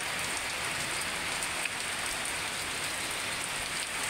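Heavy rain falls around a house in strong wind, a dense, unbroken roar of drops that stays loud and steady the whole time with no voices.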